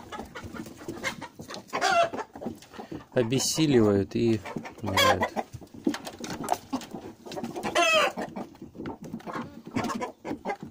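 Broody hens cluck nearby in a poultry flock, with repeated bursts of clucking and a few louder squawks scattered between stretches of someone talking.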